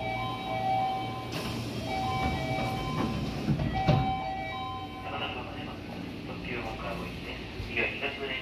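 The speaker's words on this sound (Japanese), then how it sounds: "西武1万系の抵抗制御の電車ですね。" A Seibu 10000 series resistor-controlled electric train arrives at Takadanobaba Station with a droning motor whine and steady rumble, heard from nearby with some faint background voices.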